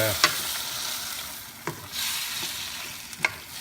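Eggplant cooking in a pan for pork binagoongan, a continuous close sizzle broken by a few sharp clinks of a utensil stirring, no voices.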